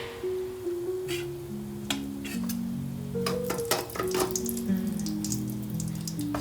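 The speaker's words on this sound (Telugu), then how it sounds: "ఎగ్స్ వేయించుకోవాలి ఇలా." Eggs fry in a pan for egg biryani, giving faint scattered crackles and sharp pops over a soft sizzle, set against a steady tonal background.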